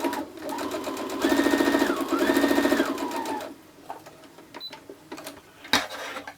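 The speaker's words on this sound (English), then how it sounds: "we're going to sew our rows together." A sewing machine stitches quilt rows together for a mini quilt in two steady, rapid bursts of needle hammering, close and loud, then stops, with quiet handling and a brief clack afterward.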